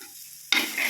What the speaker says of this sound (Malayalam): ഇതിലേക്ക് അരപ്പിട്ടു ഇതിൻ്റെ കൂടെ തന്നെ രണ്ട് രണ്ട് കറിവേപ്പിലയും ഇട്ട് കൊടുക്കാം